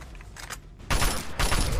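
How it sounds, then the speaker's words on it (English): Rapid bursts of gunfire in the video game Fallout: Tale of Two Wastelands rattle in loud, dense volleys, a lighter burst first and then two heavy sustained barrages. "I just shot him"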